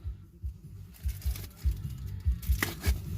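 A knife slices open a package ordered online, a series of irregular crinkling and tearing scrapes with low thumps, close and fairly quiet, ending with a sharper rip.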